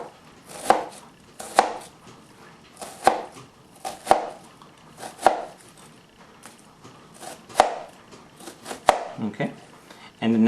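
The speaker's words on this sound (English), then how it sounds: "Next, you're going to cut down, but you're not going to go all the way through" A knife cuts down through an onion on a board, about nine crisp, evenly spaced chops at close range.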